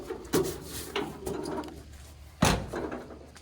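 Truck door in a garage during teardown of a K-20 truck, two solid thumps about two seconds apart with the second slam louder and sharper, amid quiet shop rumble.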